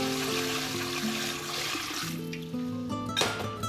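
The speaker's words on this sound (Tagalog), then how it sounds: "Sunod ay ang tubig." Water pours steadily into a cooking pot in a kitchen scene, a continuous rushing splash under faint background music, close and moderately loud with no talk.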